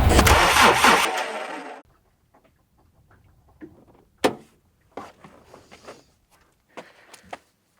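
An engine cranks loudly for a second or two, then fails to catch, followed by scattered clicks, taps and small mechanical knocks.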